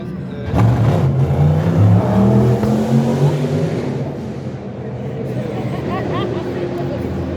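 Le Mans 24 Hours race cars, among them a Cadillac and an Aston Martin GT, parade through a town centre, with loud engine roars swelling and passing close by over crowd chatter and nearby voices.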